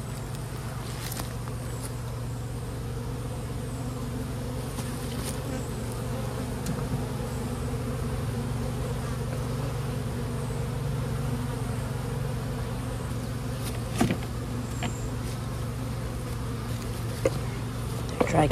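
Honeybees buzz in a dense, steady drone during an outdoor hive inspection with a bald-faced wasp nearby, the hum continuous and fairly close, with occasional soft knocks and handling noises.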